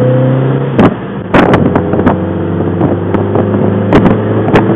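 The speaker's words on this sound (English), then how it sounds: "We'll just pop up Berry Hill. It's the measure of any car, really." A 1968 MGB Roadster engine drones steadily and loudly with a low, constant hum while climbing a hill, accompanied by intermittent rattles and knocks from the road.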